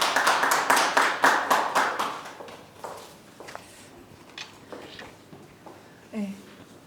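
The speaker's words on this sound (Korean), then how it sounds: "박수로 환영해 주시면 감사하겠습니다." An audience at an academic conference claps to welcome a speaker to the podium, brisk applause for about two seconds that thins into scattered claps and fades, followed by faint room noise and a few small knocks.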